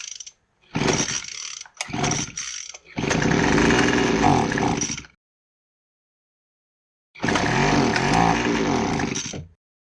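Craftsman handheld gas leaf blower being started: a few short sputtering pulls and bursts, then the two-stroke engine catches and runs loudly up close for about two seconds, cuts out, and runs again after a pause.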